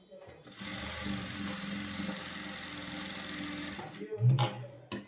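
Sewing machine stitching a straight seam on a three-year-old child's blouse, a steady close whir running for about four seconds before stopping with a couple of clicks, with a voice faintly present.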